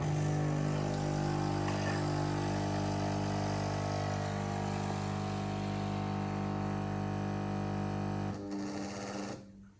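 A Nespresso Atelier coffee machine whizzes milk for a cappuccino, a loud, steady motorized hum with a buzzing drone that runs continuously for about eight seconds before stopping and fading out.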